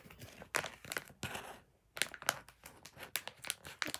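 Scissors snip and crunch through thick plastic packaging around a squishy toy, a rapid series of sharp crinkling cuts with a brief pause, close and fairly loud with no talking.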